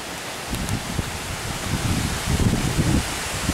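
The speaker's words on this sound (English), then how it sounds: "But as you can probably hear on the camera, it's very windy" Strong wind gusts during a severe thunderstorm in central New Jersey, a loud, steady broadband roar buffeting close to the microphone and swelling in rough gusts, with no voices.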